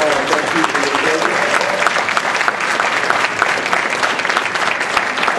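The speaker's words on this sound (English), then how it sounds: "I want you to applaud." A room full of people at a Georgia real estate investors' meeting applaud veterans standing in the audience: dense, steady clapping that holds at an even loudness throughout with no pauses.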